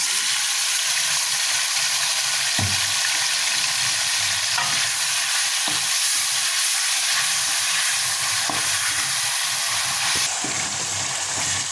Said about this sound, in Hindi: 8-10 मिनट के लिए आपने इसको इस तरह से फ्राई करना है